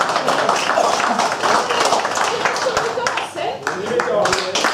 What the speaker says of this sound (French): on applaudit la régie